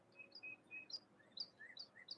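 Birds outside an open window chirp in short, faint high tweets scattered at an easy pace over a quiet background hum, with no one speaking.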